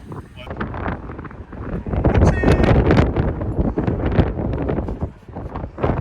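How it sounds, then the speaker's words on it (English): Strong wind roaring and buffeting the microphone outdoors in Australia, a loud continuous gusty rush with no clear break. "It is windy as hell."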